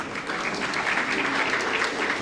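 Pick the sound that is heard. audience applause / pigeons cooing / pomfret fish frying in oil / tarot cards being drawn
audience applause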